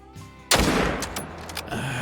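A single loud rifle shot at a buck in the hunting game Call of the Wild, a sharp blast followed by a rolling echo that decays over a couple of seconds, with a faint second rumble near the end.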